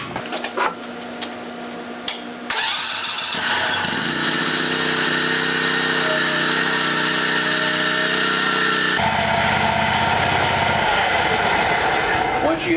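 A Scag 48-inch commercial lawn mower engine runs steadily and loudly close by, its drone growing rougher as the machine is driven onto a jack, with the tone shifting near the end.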